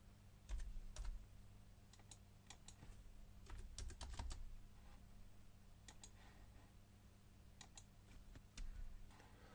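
A computer keyboard is tapped in quick bursts while a shortcut is entered in BIM software, with faint, close clicks in irregular clusters over a low steady hum and no talk.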